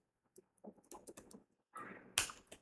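Keys clatter on a computer keyboard in short bursts of close, crisp typing with brief pauses, ending in a faster run of keystrokes.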